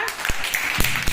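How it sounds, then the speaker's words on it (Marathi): Young children in a first-grade classroom clap a few scattered, sharp hand claps across about a second, with faint voices mixed in. "टाळ्या वाजवा"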